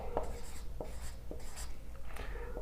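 Writing on a board during a physics numerical lesson, a steady faint scratching with a few short tapping strokes over a constant low hum, no talk.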